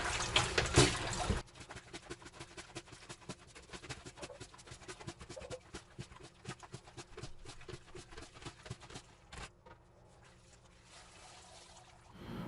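Water runs steadily into a rinse bucket for hand-washing clothes with a soft, continuous trickle, fairly faint, following a brief louder burst at the start.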